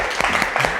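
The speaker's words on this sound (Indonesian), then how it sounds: "Oke, berikan tepuk tangan dulu untuk kelompok." Classroom applause for a student group, a short burst of close, uneven clapping from several people, brief and fairly loud.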